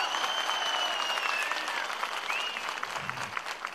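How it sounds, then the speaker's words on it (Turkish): Dense, sustained applause from a large outdoor political rally crowd in Sivas, steady and loud throughout, with a few whistles rising above the clapping. "Ona da bir alkış alalım şöyle bir kocaman"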